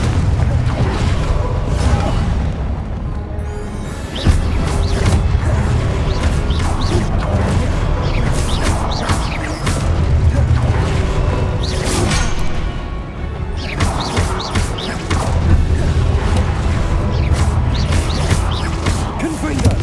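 Confringo spell blasts in Hogwarts Legacy, a dense run of booming explosive impacts and crashes over a constant heavy battle din, with a voice talking over it.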